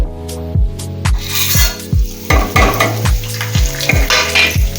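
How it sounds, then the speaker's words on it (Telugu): Seeds crackle and sizzle sharply in hot oil, with repeated bursts of popping and spattering, close and loud. "ఆయిల్ వేడైందండి. పోపు గింజలన్నీ వేసేసుకుందాం."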